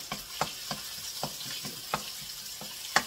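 Onions, then garlic, sizzle in a hot pan under a steady frying hiss. A spatula scrapes through them in regular strokes, about ten over a few seconds, close and clear.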